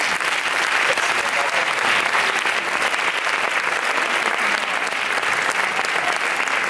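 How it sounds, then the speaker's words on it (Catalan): Theatre audience applauding at an awards nomination ceremony, a loud, sustained wash of many hands clapping that continues evenly throughout with no talking. "Doneu-les un aplaudiment."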